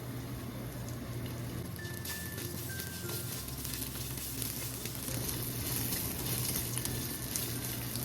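Ginger sizzling and frying in a pan for totsong bangus, a steady close crackle with faint stirring throughout.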